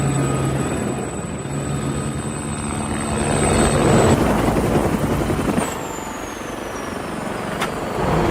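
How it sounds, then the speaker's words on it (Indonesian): Helicopter flying in a scene from the film Blackhat, a loud sustained rotor and engine roar that swells and recedes, with a tonal whine shifting partway through. "Mereka pun segera meluncur ke lokasi menggunakan helikopter."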